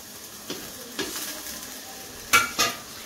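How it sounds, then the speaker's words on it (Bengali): Chopped tomato is stirred into a frying egg tadka, with a soft steady sizzle under a few sharp spatula clinks against the pan, the last two loudest and close together. "এবারে এর মধ্যে আমি দেবো হচ্ছে টমেটো।"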